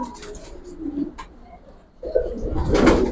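Silver and Pankhi fancy pigeons in a loft coo softly in low, murmuring bursts, growing louder and fuller toward the end, with faint background noise.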